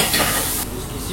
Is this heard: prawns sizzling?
yes